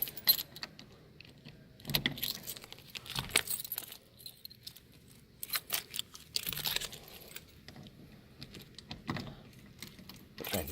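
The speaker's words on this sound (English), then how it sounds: "So I get the right key." Car keys jangle in bursts as someone sorts through a ring to find the right key for a 1934 Ford two-door sedan street rod, close clinks separated by brief pauses.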